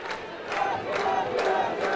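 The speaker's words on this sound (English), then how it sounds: "the Town fans there singing their heads off below us" Town football fans singing loudly as a massed crowd at a Workington versus Whitehaven match, a continuous chanting roar with rhythmic swells, heard from above in the stadium.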